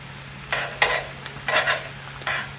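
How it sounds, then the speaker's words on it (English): Poke sallet greens being stir-fried in a hot pan, with several bursts of scraping and sizzling at irregular intervals over a steady low hum. "stir frying it"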